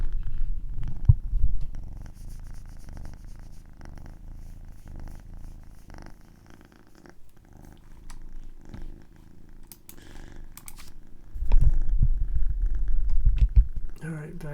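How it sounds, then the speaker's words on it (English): A cat purrs in a low, continuous rumble close by, swelling louder at the start and again near the end, while someone talks quietly over it. "guys hear this cat purring?"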